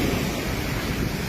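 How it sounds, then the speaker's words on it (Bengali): Strong floodwater current flows in Sylhet, swollen by hill runoff, a dense, constant rushing roar with wind buffeting the microphone, close and loud with no voices. "বর্তমানে দেখছেন যে পানির স্রোত খুবই বৃদ্ধি পাচ্ছে পাহাড়ি জলের কারণে"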